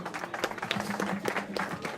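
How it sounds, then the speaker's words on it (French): Spectators at a French school cross-country championship clap for a second-place junior girls' finisher, brisk close claps overlapping with voices talking nearby. "bravo pour cette belle performance, cette belle 2e place, on peut l'applaudir"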